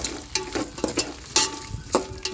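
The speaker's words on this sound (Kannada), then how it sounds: "ಈಗ ಬೆಂಡೆಕಾಯಿ ಫ್ರೈ ಆಗಿದೆ" Okra fries in oil in a pan with a soft sizzle underneath, broken by repeated scraping and clacking stirring strokes at an uneven rhythm.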